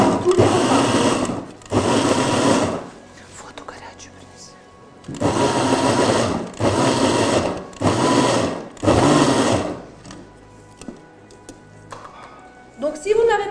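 Electric grater shredding vegetables in a cooking workshop kitchen, several loud sustained whirring bursts of a few seconds each separated by pauses, with quieter kitchen handling sounds in between.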